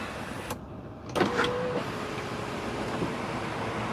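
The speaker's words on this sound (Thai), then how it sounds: "เปิด sunroof กันสัหน่อยก่อนนี่" Sunroof of a 2020 BMW 530e M Sport opening inside the cabin: a short click, then a steady electric motor whine that runs smoothly for a few seconds, close and moderately loud, with no talking.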